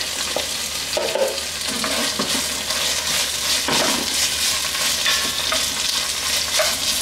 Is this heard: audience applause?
no